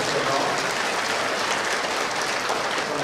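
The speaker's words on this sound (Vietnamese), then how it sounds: "chúng ta một tràng pháo tay để chúc mừng tất cả những người đó" Church congregation in Australia applauding after the priest calls for a round of applause, a dense, even wash of clapping throughout.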